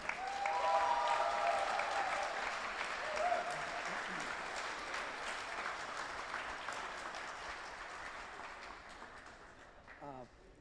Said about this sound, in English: a big round of applause for our gracious host at this beautiful K2 squash facility, Cameron Khan.